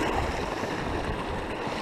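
A creek swollen by heavy rain runs steadily, a constant wash of rushing water close by with no voices.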